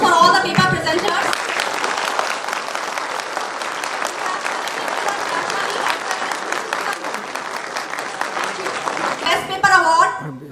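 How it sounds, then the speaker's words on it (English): A conference audience applauds the paper presenters in a long, steady round of clapping that holds for about ten seconds before it tapers off. "So, a round of applause for all the paper presenters."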